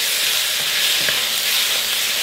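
Chicken pieces sizzling in a hot wok, a steady bright frying hiss with faint stirring scrapes underneath, close and continuous.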